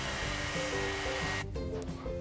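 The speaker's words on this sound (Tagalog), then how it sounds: "blower ng buhok" A hair dryer blows continuously on hair, a loud, close, steady whooshing roar with a constant motor whine, briefly dipping as the airflow shifts.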